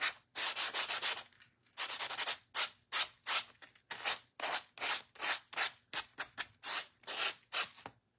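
Rhythmic strokes of sandpaper rasp against a napkin decoupage craft piece, quick back-and-forth rubbing in bursts with short pauses between, close and fairly quiet.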